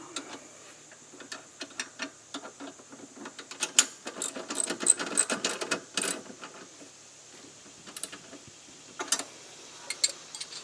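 Bolt tightened on the emergency brake of a Polaris Ranger with semi-metallic brake pads, a ratchet wrench clicking in quick irregular bursts of sharp ticks, close and fairly quiet, with short pauses between runs.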